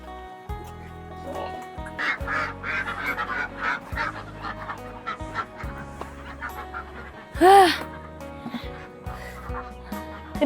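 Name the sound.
ducks quacking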